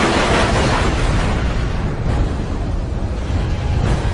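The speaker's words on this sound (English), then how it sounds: "30mm cannon tracers rip through the sky" Roaring, continuous blast of 30mm cannon fire and explosions during a dogfight between Israeli Mirage jets and Su-7 Sukhois, loud and dense with no gaps.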